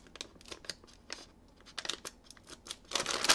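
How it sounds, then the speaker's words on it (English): Scissors cutting holes into a bag of potato chips, with short crinkly snips and rustles in irregular bursts, close and fairly quiet, ending in a louder crackle of crumpling packaging. "I'm gonna cut more holes over here."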